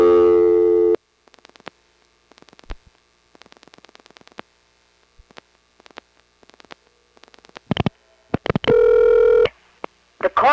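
A 1970s coin telephone on a new ESS exchange in Brooklyn: a brief tone, then a run of rapid dial clicks and tones, followed by loud steady signal bursts near the end, all close and clean.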